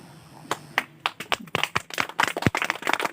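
An audience at a lecture claps. A few scattered hand claps quickly build into a fuller burst of applause, close and fairly lively.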